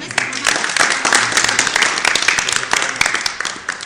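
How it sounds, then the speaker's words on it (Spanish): An audience claps at a Day of the Dead special program, a loud, dense burst of applause lasting a few seconds with a voice faintly under it. "Adelante, un aplauso."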